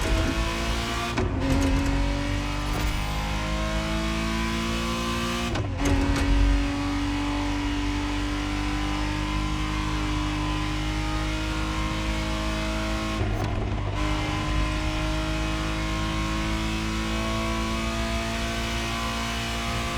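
A 1991 Ferrari Testarossa 512 TR engine in The Crew Motorfest racing game drones continuously, with rising revs and a few quick dips between gear shifts.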